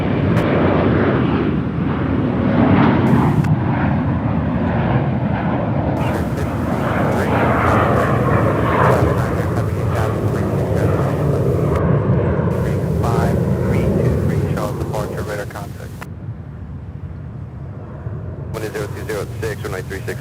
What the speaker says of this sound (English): we have the 717 taking off, heading to Minneapolis, Delta 2819